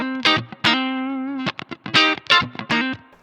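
Loud, heavily distorted electric guitar playing a choppy rock riff, sustained gritty notes broken by sharp staccato stabs.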